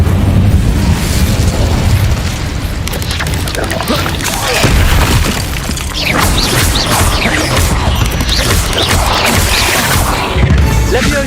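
The Incendio fire spell in the video game Hogwarts Legacy, a dense roaring blast of flame with repeated booming bursts and crackling over a steady rumble, with a voice briefly calling out.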